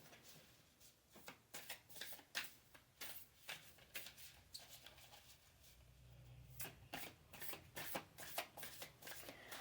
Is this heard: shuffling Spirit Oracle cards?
yes